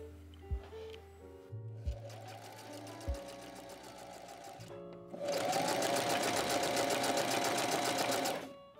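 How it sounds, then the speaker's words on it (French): Domestic sewing machine running a straight stitch along a zipper on a trapeze skirt, with short bursts and thumps at first, then a loud, steady rapid stitching run that carries on for several seconds. "je vais venir coudre tout le long en gardant le bord du pied sur le milieu de la fermeture"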